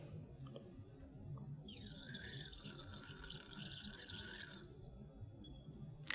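Liquid runs steadily from the opened stopcock of a laboratory burette during an acid-base titration, a soft continuous trickle with a thin hiss that carries on for a few seconds and then stops, with no voices.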